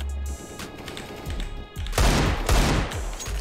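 Gunfire in the video game CS:GO: rapid bursts of close, loud shots and automatic fire that grow denser toward the end, with no talking.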